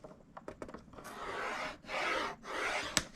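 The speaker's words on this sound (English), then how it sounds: "Rotate it to the opposite 6 1/2 inch side and score at 3/4 of an inch." Paper being scored on a scoring board, a few light taps and scratches followed by two longer rasping strokes drawn along the paper, close and fairly quiet.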